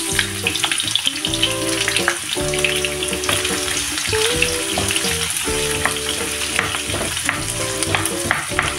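Chopped onion sautéing in a hot pan for a red pepper spread, a steady loud sizzle with stirring scrapes and spatula knocks throughout, no talking.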